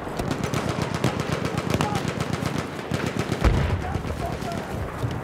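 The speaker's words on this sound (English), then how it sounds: "he's got a machine gun" Rapid machine gun fire rattles on in a Battlefield 1 Conquest battle at Cape Helles, dense repeated bursts mixed with distant gunshots and a heavier thump partway through, with faint voices beneath the din.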